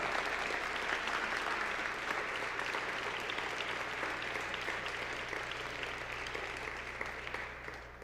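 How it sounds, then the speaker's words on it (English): Sustained, dense applause from a large audience at an MLK Day celebration in Chicago honoring District Court Judge George Leighton, steady throughout and tapering slightly at the end, with a low hum beneath. "Please give Judge Leighton a big round of applause."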